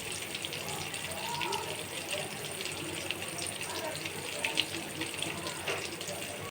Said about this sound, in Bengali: এখন বেগুনগুলো ভেজে নেব